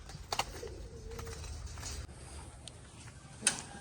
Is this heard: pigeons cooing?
yes